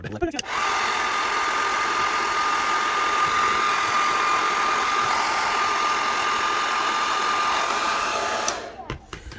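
A hair dryer, used to heat and loosen a Marvel Legends action figure, switches on and runs as a loud, steady whirring blow with a constant whine. It cuts off near the end.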